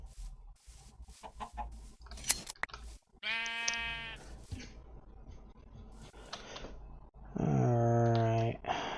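Sheep in the Minecraft modpack FTB Interactions give two clear, loud bleats, one early and a longer one near the end, with scattered soft thumps and clicks from play between them.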